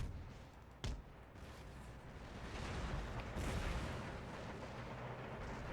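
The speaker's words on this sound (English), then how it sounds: "Cannon fire coming in as well." Cannon fire on a battlefield in the strategy game Empire: Total War, one sharp boom early on, then a sustained rumbling roar of distant artillery and battle noise, with no talk.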